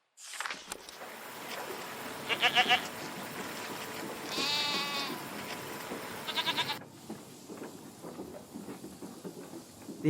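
Goats bleat repeatedly in the video game A Letter to the Future, several short nasal calls standing out over a busy ambient game background with soft footstep-like patter, before the scene drops to quieter ambience.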